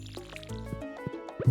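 Watering crops in the Stardew Valley video game: a series of soft, short liquid splash and drip effects repeating at an uneven pace over background game music, ending in a brief louder burst.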